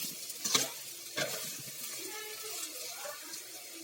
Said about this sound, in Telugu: కొంచెం సాల్ట్ కొంచెం పసుపు వేసి ఇలా ఫ్రై చేసుకోవాలి